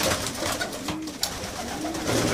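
Young pigeons coo in a loft, soft low burbling calls under a constant hiss of background noise, with no one talking.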